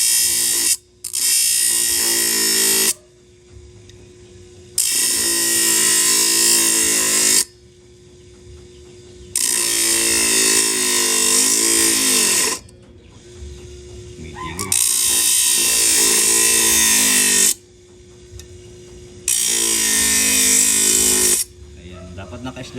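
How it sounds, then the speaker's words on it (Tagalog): Angle grinder cutting in bursts of about two to three seconds each, five loud high-pitched runs separated by quieter pauses with the motor winding down, close to the listener, and no speech over the cutting. "Silipin mo kung saan yung tama yung takbo ng grinder."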